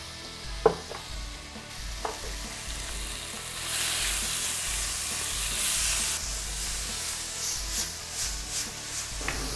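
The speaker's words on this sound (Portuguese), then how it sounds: "Justamente estou colocando poucas porções de cada vez para mim grelhar essa carne." Small batches of meat sear in a hot pan with a steady sizzle that swells louder midway as more pieces go in, along with a few sharp clinks of a utensil against the pan, and no speech.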